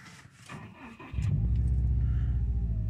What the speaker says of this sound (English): sumptuous low growl that the Subaru gives on startup